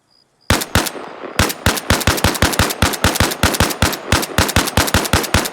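Gunfire in the video game Arma Reforger: loud, close bursts of rapid automatic shots after a brief silence, dozens of sharp cracks in quick rhythmic succession with no talking.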